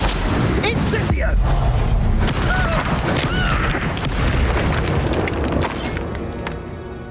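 Incendio fire spell blasting in the game Hogwarts Legacy, a loud booming burst with whooshing flames and crackle during a fight, overlapped by shouted spell voices and combat effects, fading near the end.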